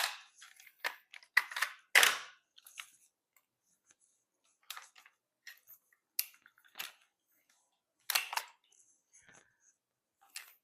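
A rifle being broken down in half by hand, a series of sharp close metallic clicks and snaps in short bursts with quiet pauses between them, no talking.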